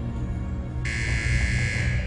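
A prison cell block buzzer in a cell sounds after a short quiet stretch: one harsh, steady electronic buzz that starts abruptly and holds loud and unbroken to the end, over a low background hum.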